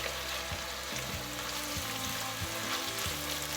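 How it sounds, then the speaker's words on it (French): Chopped leek and other vegetables sizzle and fry with rice in a pan, a steady close crackle broken by regular scraping stirs, with no voices. "Je verse le poireau. Donc tout va frire ensemble."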